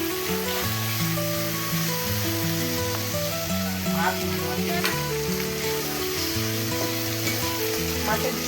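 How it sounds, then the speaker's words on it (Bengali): Fish frying in a pan for a bhog prasad meal, a steady loud sizzle and crackle running throughout, with scraping stirs and some tonal background sound layered over it. "তারপরে মাছটা ভাজা শুরু করলাম।"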